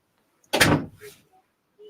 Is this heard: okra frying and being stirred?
no